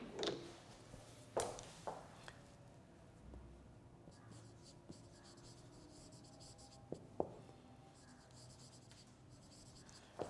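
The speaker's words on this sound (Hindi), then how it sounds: "मैं लिख भी देता हूं।" Chalk or marker writing on a board during a lecture, scratchy strokes and sharp taps in irregular bursts with quieter gaps, close and fairly faint, alone without speech.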